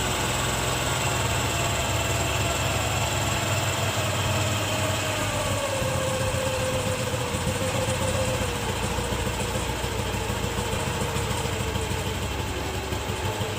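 Motorcycle engine idling steadily while the air-fuel mixture screw is adjusted, a continuous loud mechanical drone with a pitch that slowly drifts lower in the middle, with no talk over it.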